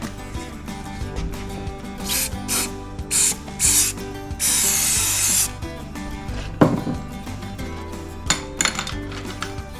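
Several short bursts of spray adhesive hiss in sequence, one held longer, among clattering and rubbing handling noises while preparing a resin lamp hood.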